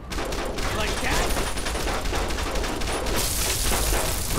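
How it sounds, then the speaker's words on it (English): Rapid gunfire crackles in Fallout: New Vegas, a dense sustained fusillade of shots, fairly close, with speech mixed in during the firefight. "Or stop shooting my robot"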